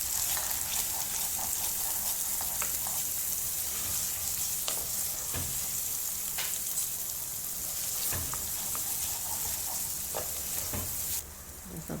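Garlic and ginger paste fries in a pan with a dense, steady sizzle close by, dotted with occasional crackles and light stirring taps throughout.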